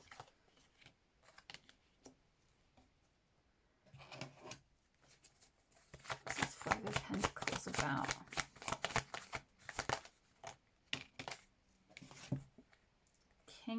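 Tarot cards being handled and shuffled close by, soft sliding and flicking that builds into a dense riffle shuffle in the middle before tapering to scattered card taps, with a person talking intermittently.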